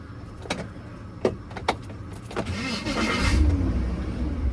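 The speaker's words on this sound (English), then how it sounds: "You hear that motor noise" A car engine whirs and grinds at close range, with a few sharp knocks early on, then the motor noise swells into a louder steady rumble that continues to the end.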